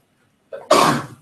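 A single sharp sneeze in a classroom, a short intake followed by a loud burst, close and alone against near silence.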